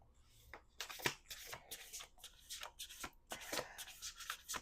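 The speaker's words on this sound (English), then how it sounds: "We'll do 2 more shuffles." Playing cards being shuffled in quick bursts of riffling and sliding, close up and fairly quiet, with short pauses between shuffles.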